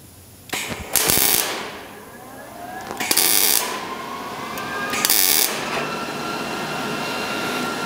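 Short bursts of tack welding on the seam of a 1970 El Camino metal body panel, three crackling buzzes about a second long each, with hum and clanking in between, close and fairly loud.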